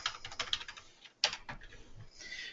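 Fingers tap on a computer keyboard while a pay date is entered, a run of quick, close, uneven clicks with a brief pause partway through.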